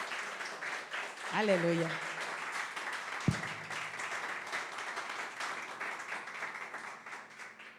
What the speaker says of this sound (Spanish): Dar un aplauso, mi hermano.